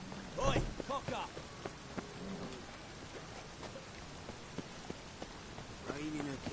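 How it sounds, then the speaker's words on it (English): Rainfall in a PS4 game, a soft steady patter with scattered drops and a faint rumble, while voices and tonal game sounds rise over it at moments. "Raining again."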